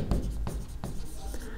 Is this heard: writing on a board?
yes